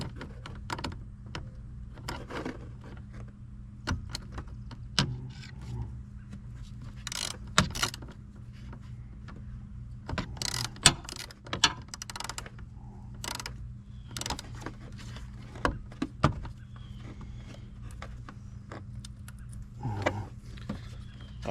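Small metal fastener being tightened on a 12V power socket during an install in a 2022 GMC Sierra, heard as intermittent close ratcheting clicks and scrapes over a steady low hum.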